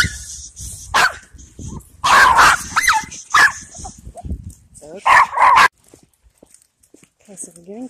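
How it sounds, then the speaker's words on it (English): A dog barks several times in short, sharp bursts nearby, with a person speaking in between. "Barks at everything."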